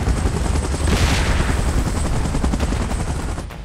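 A video game helicopter thunders close by, its rapid rotor chop and engine roar filling the scene loudly and continuously, with rattling bursts like gunfire mixed in.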